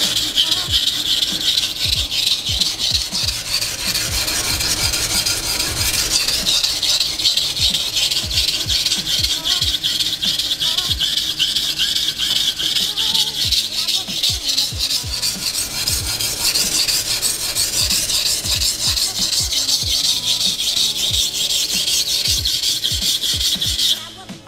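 A Nishida Kurouchi petty knife is sharpened on a whetstone to repair a chip, producing a steady, continuous rasping rub with repeated close strokes throughout, without talk.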